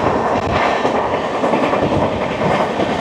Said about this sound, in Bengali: চলে আসছে ট্রেন নাম্বার 22301, হাওড়া থেকে নিউ জলপাইগুড়ি, বন্দে ভারত এক্সপ্রেস